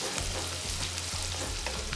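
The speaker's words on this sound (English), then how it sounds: "ginger, garlic, just saute a little bit." Ginger and garlic sauté in a pan, sizzling steadily with a few soft scraping stirs, close and moderately loud, without any talk.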